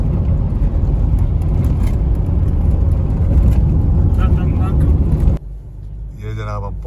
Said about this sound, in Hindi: गड़म गड़म की आवाज़ें आती हैं गाड़ियों में से।